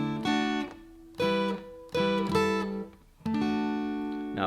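Acoustic guitar playing the third measure of a song, several strummed chords ringing out in sequence, close and clear with no talk.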